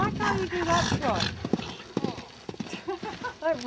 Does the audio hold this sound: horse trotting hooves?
yes